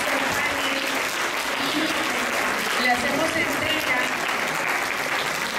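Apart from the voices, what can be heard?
audience applause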